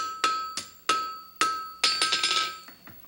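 Blacksmith hammering heated round steel at a wagon works: ringing metallic blows, first several spaced strikes at a steady pace, then a quick flurry of lighter ringing taps, each with a bright lingering tone.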